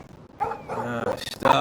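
Short yips and barks from a dog in the video game Life is Strange, near and fairly loud, mixed in with a person talking over the game.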